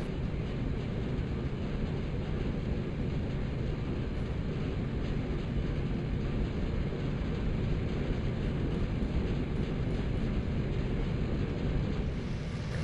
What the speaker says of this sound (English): the train crosses Loop Creek Road and dives into tunnel number 25